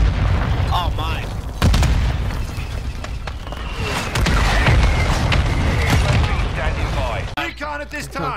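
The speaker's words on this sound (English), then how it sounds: "Friendly mortar strike inbound." Mortar rounds strike in a military shooter video game, giving loud, dense booms and rolling explosions mixed with gunfire, while voices call out over the noise.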